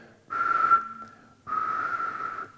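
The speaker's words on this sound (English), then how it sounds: "If I whistle in between 12 and 1400" A person whistles two steady, sustained pitched notes between 1200 and 1400 Hz, each lasting about a second with a short pause between them, close and clear against a quiet background.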